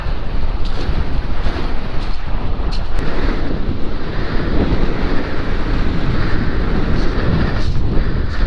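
A big sea swell pounds the south coast of the UK during a hurricane, with strong wind roaring steadily and buffeting the microphone, heavy and loud throughout.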